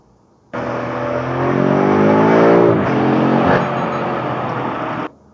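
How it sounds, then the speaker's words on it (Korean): A 625-horsepower BMW M5 Competition engine revs hard and loud with a rising pitch, then holds steady; a brief crackle from the exhaust cuts through the roar. "같은 엔진에 같은 출력인데 얘는 배기가 조금 터지고 있습니다"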